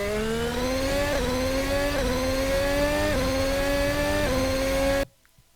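An RSS Formula Hybrid X race car in Assetto Corsa screams at high revs, its loud tonal engine note stepping up through several quick gear changes before cutting off abruptly.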